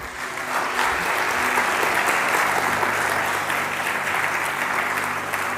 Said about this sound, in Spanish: Dile un fuerte aplauso a nuestro Dios.